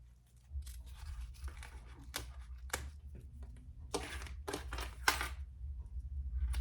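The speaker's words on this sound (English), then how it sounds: "let me cut off my excess zipper first." Scissors snip off excess zipper on a handmade purse being sewn, a series of sharp, close cutting clicks spaced irregularly over a quiet room background.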